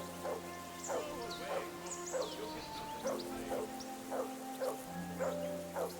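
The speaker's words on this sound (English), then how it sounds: "Do something with that mutt, Henry!" Dog barks repeatedly in short yips with whimpering between, a steady rhythm of calls in a Kingdom Come Deliverance II scene, over a low background drone and music.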